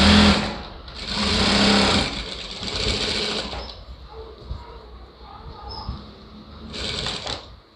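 A sewing machine runs in several bursts while stitching a second seam on a blouse lining, loud and close, with pauses and quiet handling in between.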